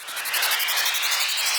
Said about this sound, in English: You just get a free noise riser just by adding noise in.